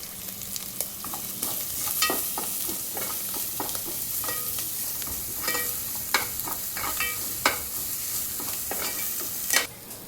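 Onion with ginger and garlic sautéing in a pan for veg biryani, a continuous nearby sizzle broken by frequent sharp scrapes and taps of a stirring spoon, with no talking.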